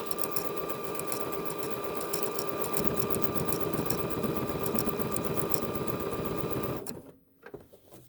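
A sewing machine runs a decorative stipple stitch in one steady, close, continuous whirring drive for nearly seven seconds, then stops abruptly, followed by a faint click and handling.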